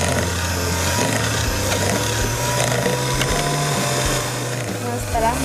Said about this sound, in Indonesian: Sekarang saya akan mixer.